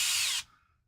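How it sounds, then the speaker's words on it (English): A power drill bores a hole through an RC crawler chassis, a loud, bright whine for under half a second before cutting off and leaving a faint tail. "I had to drill new holes in this chassis to fit this skid."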